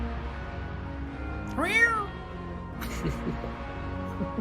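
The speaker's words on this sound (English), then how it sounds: "Very, very unhappy kitty." A cat lets out one loud, drawn-out unhappy meow with a rising and falling pitch, followed by a shorter fainter cry, over low background noise.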